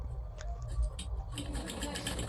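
A sewing machine stitches a bag made from an old sack, its rapid mechanical chatter running close and steady, with a voice speaking faintly underneath.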